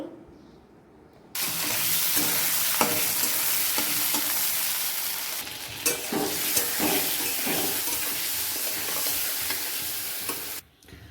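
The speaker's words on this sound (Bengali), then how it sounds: "মাছ ভাজার তেলের মধ্যে টমেটোটা হালকা করে টেনে নেব।" Tomato stirred into hot oil left from frying small fish, a loud continuous sizzle that starts abruptly and carries scraping stir strokes before cutting off near the end.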